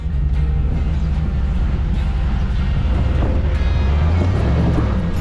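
A Jeep Gladiator carrying a camper crawls uphill off-road in second gear, its engine a steady low, loud drone running without a break and mixed with rough rumbling from the terrain.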